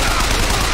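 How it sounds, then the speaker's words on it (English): Dense gunfire in the Bioshock Infinite shooter game, a loud continuous burst of shots filling the brief moment with no pauses. "Where am I getting shot from?"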